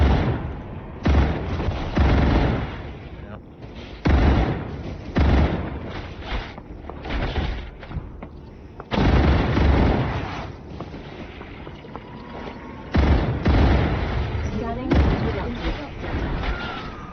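Artillery bugs lobbing shots in the StarRupture video game, heavy booming blasts and gunfire in loud bursts that recur every couple of seconds, with chatter from players mixed in.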